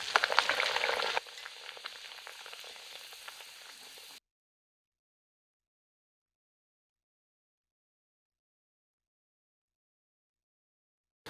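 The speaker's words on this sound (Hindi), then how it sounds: "तो मैं आपको एक और पूरी तल के दिखाती हूँ।" A puri fries in hot oil on a high-to-medium flame, giving a close, dense sizzle that drops to a softer bubbling after about a second and then cuts off into silence.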